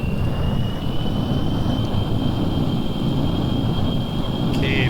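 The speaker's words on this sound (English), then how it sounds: "Blackbird ready for takeoff." SR-71 Blackbird jet in Kerbal Space Program, a steady roaring engine rumble with a thin high whine sustained throughout at constant loudness.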